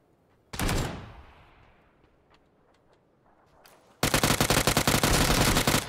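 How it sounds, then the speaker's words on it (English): Gunfire in the video game PUBG: a single loud shot early, a quiet stretch with faint ticks, then a close, rapid burst of automatic fire to the end. "Shoot your gun"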